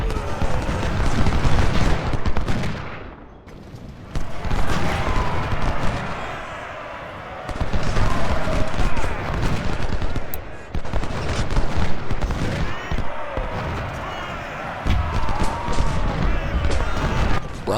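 Dense battle din from the Civil War strategy game Ultimate General: Civil War at Perryville, with gunfire and artillery booms rolling continuously and loudly, broken by one brief lull.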